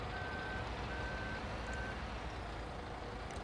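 Reversing beeps from a vehicle backing up in Landwirtschafts-Simulator 17, a farming game, repeating steadily over a constant engine rumble.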